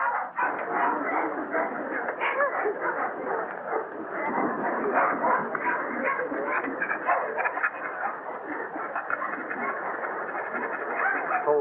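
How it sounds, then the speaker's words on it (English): Many dogs bark and yelp together in a dense, continuous din at an indoor dog show, a crowded chorus that never lets up, with no clear talking over it. "I can stand one dog, but this bedlam is getting on my nerves."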